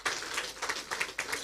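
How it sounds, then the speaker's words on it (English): A round of applause for Chief Olusegun Obasanjo at a leadership lecture marking a 65th birthday in Nigeria: a short, moderate burst of many hands clapping from a seated audience, uneven and slightly distant. "Now is when I will ask for another round of applause for Chief Olusegun Obasanjo."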